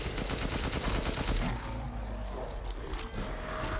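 Rapid automatic gunfire in Resident Evil Village, a fast rhythmic burst of shots for about a second and a half, then quieter game ambience with faint scrapes.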